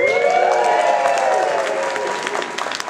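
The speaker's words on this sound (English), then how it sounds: "This is where you applaud." Audience clapping and light cheering at a Stan Lee Q&A panel at Wizard World Chicago Comic Con, a loud burst of applause that holds steady for a few seconds then starts to thin toward the end.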